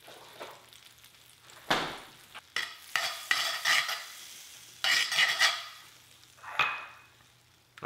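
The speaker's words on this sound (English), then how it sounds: "first we're going to throw in the onions and get these sautéed down to where they're soft and translucent" Onions sauté in a hot cast iron skillet, a low sizzle broken by several close scraping stirs and clinks of a utensil against the pan, in irregular bursts.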